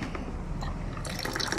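Hot water pours into a glass, a steady liquid fill with a brief trickle that brightens and rises in pitch toward the end, close and fairly quiet, with no one speaking.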